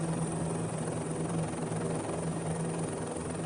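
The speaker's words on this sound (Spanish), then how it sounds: "El helicóptero se suspende en el aire." An army special forces helicopter hovers at night above the Colombian jungle, its rotor and engine a constant close whirring roar, no voices.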